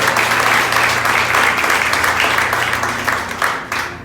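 A congregation in church applauds loudly, many hands clapping in a dense steady roar that tapers off near the end of about four seconds, with a low hum underneath.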